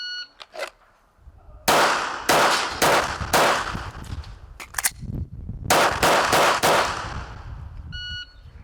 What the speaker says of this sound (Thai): ต่อไปชักออกจากซอง ยิง 4 นัด รีโหลด 4 นัด 7 เมตรไม่เกิน 8 วินาทีนะครับ